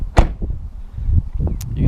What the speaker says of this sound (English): You can feel the quality when you shut the door.